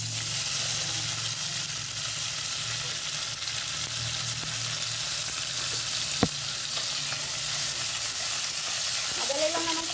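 Cooked rice is stirred in a frying pan of ginataang mungo, giving a steady sizzle under light scraping, with one sharp utensil knock partway through.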